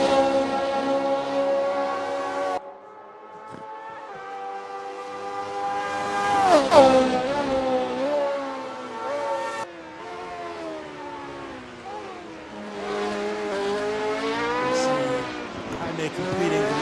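Formula One race cars in a video game league race sweep past under a bridge, their high engine whine rising and falling in pitch and loudness as they pass, with several overlapping engine tones and no talk.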